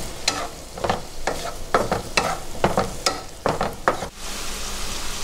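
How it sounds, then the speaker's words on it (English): Clams cooking in a pan over high heat, with a steady close sizzle and repeated scraping stirs at a quick irregular rhythm, no voices. "We're going to cook it on high heat."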